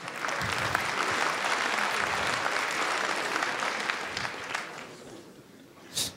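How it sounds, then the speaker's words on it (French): Steady, loud audience applause fills a conference talk hall on Agile Tour Montréal, a dense even wash of many hands clapping that gradually thins and fades toward the end. "On peut l'applaudir, oui, oui, oui."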